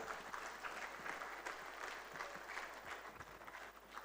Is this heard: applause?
yes